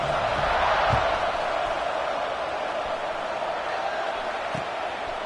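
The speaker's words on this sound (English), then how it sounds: "this crowd is buzzing after that last score" An American college football crowd in College Football 26, Texas Tech at Boston College: a steady, broad stadium roar with no lulls and a couple of faint thumps.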